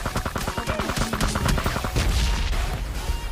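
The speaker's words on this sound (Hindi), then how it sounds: "बहुत गंदा फायर आया मेरे पे" Heavy, rapid gunfire from an AUG rifle in a first-person shooter battle royale, loud dense bursts of shots and impacts filling the clip without pause.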